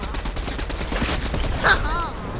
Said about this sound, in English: Combat SMG.